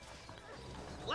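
Horse hooves clop quickly and close by in a brief burst in the video game Red Dead Redemption, mixed with other game noise, ending in a sharp rising sound.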